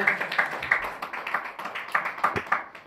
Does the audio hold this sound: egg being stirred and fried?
no